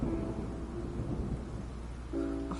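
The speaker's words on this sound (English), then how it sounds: "It's raining again? I've had enough of this weather." Thunder and rain in the Genshin Impact video game, with a steady low rumble under constant rainfall and faint tonal game music on top.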